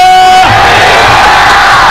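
A large congregation at an outdoor Christian revival crusade in Shanti Nagar shouts together in one loud, massed roar. The roar swells after a brief sustained tone and holds steady through the rest of the moment.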